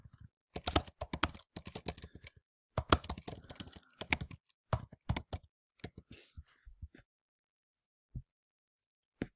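Fast bursts of typing on a computer keyboard, with rapid clusters of key clicks broken by short pauses and ending in a few scattered taps in a quiet room.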